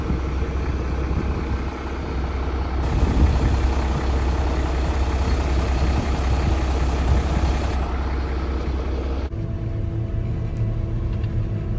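Farm tractor engine idling outdoors, a steady low rumble with a constant droning tone, unchanged for about nine seconds before the sound drops to quieter background.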